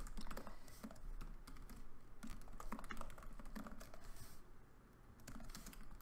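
Steady clatter of keys as code is typed on a computer keyboard for a LunaLua scripting tutorial in Super Mario Bros. X, rapid uneven bursts of clicks running throughout, close and fairly soft, with no talking.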